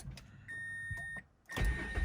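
A 2005 Mazda 6s is cranked and started: a short starter whirr, a brief pause, then the engine catches and settles into a steady running note, close by.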